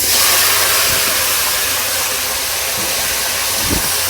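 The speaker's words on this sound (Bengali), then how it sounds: "তেল গরম হয়েছে, এখন দিব গোটা জিরা।" Steady loud sizzle of cumin seeds dropped into hot oil for a village-style kochur loti and poa fish curry, a broad hiss running unbroken throughout with a couple of faint low thumps.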